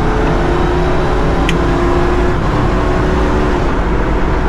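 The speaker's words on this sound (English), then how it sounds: "New dual exhaust sounds good too." A 1966 Chevelle convertible's engine with new dual exhaust rumbles steadily and loudly up close, with a deep, throaty exhaust drone and no voices.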